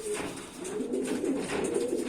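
Soft, low pigeon coos roll continuously, several birds murmuring together at close range over a faint background hiss.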